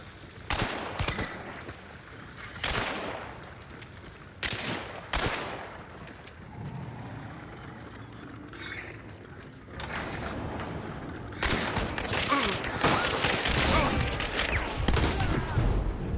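Rapid gunfire bursts and mechanical clatter from a firefight in the video game Hunt: Showdown, with several loud broadband shots and volleys in quick succession, some near and some farther off, filling the scene with sustained chaos toward the end.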